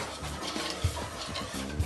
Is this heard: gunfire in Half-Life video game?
no